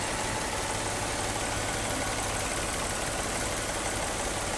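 A car engine idling in park or neutral, a steady unbroken rumble with a constant low hum and no voices.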